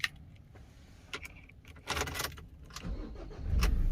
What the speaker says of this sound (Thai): เดี๋ยวทดสอบสตาร์ทให้ลูกค้าดูนะครับ